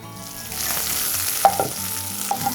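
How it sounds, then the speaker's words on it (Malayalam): Mustard seeds splutter and crackle in hot oil in a pan as green chillies and curry leaves go in, with a steady close sizzle, a few sharp pops, and no voices. "കടുക് പൊട്ടി വരുമ്പോഴത്തേക്ക് നമുക്ക് പച്ചമുളകും കറിവേപ്പിലയും ചേർത്ത് കൊടുക്കാം."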